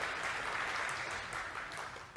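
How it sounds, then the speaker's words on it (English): Audience applause at a presentation on intelligent design, a dense burst of many hands clapping steadily throughout, fairly loud and close, with no talk over it. "I've never gotten applause for messing up a visual aid before"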